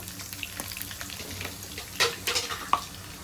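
Cumin and garlic sizzle in hot oil in a pan, with a soft crackling hiss, a few sharper spits and pops, and light stirring scrapes, close and moderately loud with no talking.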